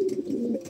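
Pigeons cooing softly in their coop, a low steady murmuring coo heard up close for a brief moment, with no voices.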